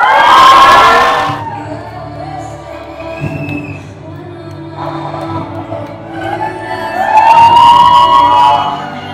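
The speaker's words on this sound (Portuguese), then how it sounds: "Recebam com amor, carinho e uma enorme salva de palmas a estrela mais brilhante dessa noite, Princesa Maria Clara!" A crowd at a debutante ceremony cheers and shouts loudly, with high whistle-like whoops at the start and end and a quieter murmur in between.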